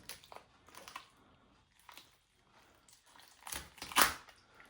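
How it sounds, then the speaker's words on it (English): A D2 steel drop point folder knife splits a thick turkey breast bone, giving a few quiet, irregular crunches that build to a loud sharp crack near the end. "now I am going through some thick bone"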